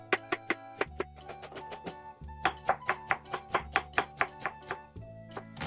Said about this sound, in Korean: 당근 반 개는 얇게 채를 썰어주시고